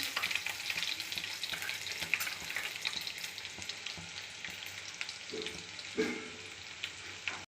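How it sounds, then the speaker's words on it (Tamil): Small shallots frying in a pan with cloves and cardamom for Tirunelveli sodhi, a continuous close sizzle with intermittent stirring scrapes and clinks throughout. "சின்ன வெங்காயத்தை நல்ல கொஞ்சம் நேரம் மாற வர வதக்கணும்"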